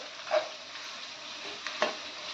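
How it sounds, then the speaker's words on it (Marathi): Chopped onion sautéing in a pan for dal khichdi, a steady close sizzle broken by two louder scrapes of a spoon stirring. "कांदा छान परतून घ्यायचे"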